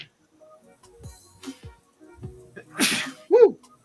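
A single loud sneeze bursts out close by after faint shuffling and small clicks, ending in a sharp voiced exhale.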